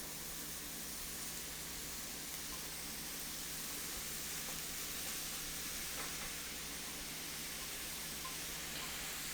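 Ingredients for beef Wellington cooking in a dry pan, a steady, even hiss and sizzle with no break, moderately quiet and heard alone.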